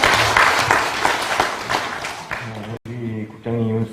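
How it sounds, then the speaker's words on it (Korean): A crowd applauds for about two and a half seconds at a Korean National Assembly policy debate, then a voice begins speaking in Korean as the clapping stops. "박수 한번 주십시오"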